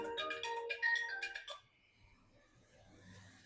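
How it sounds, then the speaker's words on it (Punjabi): A phone ringtone plays a bright, high electronic melody for about a second and a half, then stops, leaving faint background noise. "ਇਹ ਤਾਂ ਉਹਨਾਂ ਦਾ ਫੋਨ ਆ ਰਿਹਾ ਮੈਨੂੰ"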